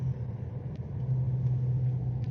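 A 2021 VW GTI engine and exhaust rumble in a low, steady drone heard from inside the car, with a few faint clicks over it and no talk.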